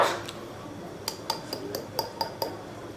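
Oil, yogurt and eggs are whisked together in a bowl, giving a quick run of bright clinks and taps against the bowl with no talk.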